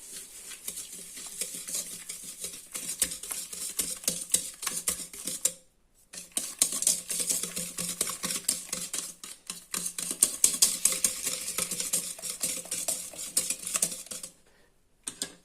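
Continuous scraping and clinking of a utensil stirring a mixture for a no-bake chocolate sausage cake in a bowl, steady and close, with one short pause midway and another near the end.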